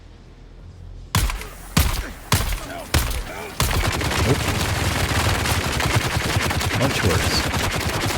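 Auto gunner turrets in Dune Awakening open up with a few heavy single blasts, then a sustained rapid automatic barrage, loud and close, with a brief spoken remark over it.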